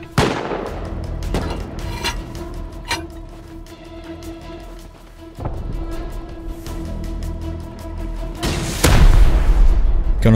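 Rapid bursts of AK rifle fire in the survival game Rust, loud and sharp against a busy mix of other thuds and game noise, growing heavier toward the end.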